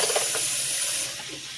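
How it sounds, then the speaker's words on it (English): Hands are rinsed under a running kitchen tap, a short, steady rush of spraying water that eases slightly near the end, with no talking. "And I'll rinse my hands out."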